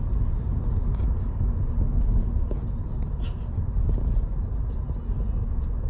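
A motorcycle ridden toward a pier produces a steady, loud engine and road rumble with wind noise throughout, and faint voices come and go beneath it.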